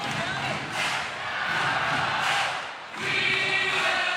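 A basketball arena crowd at the 2015 FIBA Asia Championship game between China and Kazakhstan cheers after a dunk, a loud swelling roar with a brief dip, while a commentator talks over it.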